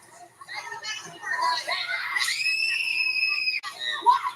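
A wrestler lets out a long, high, piercing shriek at a televised wrestling match, loud and sustained, with a second brief cry following.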